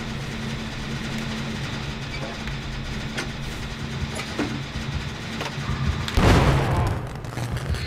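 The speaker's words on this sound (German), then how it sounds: "Schöne Explosion noch zum Schluss" A sudden booming blast in the video game Dead by Daylight erupts over a steady low hum and rumble, with a few sharp clicks beforehand; loud and close, then fading.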